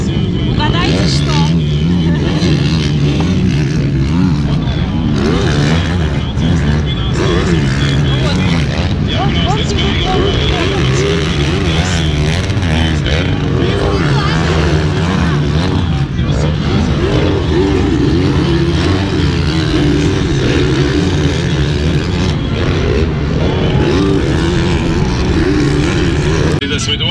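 Motocross motorcycles racing and launching off jumps at MXGP of Latvia in Ķegums, with loud, continuous engine roar rising and falling as bikes pass, and a voice talking over the noise.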